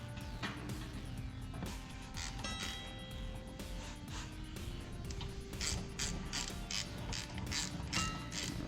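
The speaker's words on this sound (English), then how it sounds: "I'm using the biggest ratchet I got" Ratchet wrench with a swivel socket tightening Ford Performance tow hooks on a 2019+ Ford Ranger, a steady stream of close mechanical clicks with some rhythmic bursts of ratcheting, no talking.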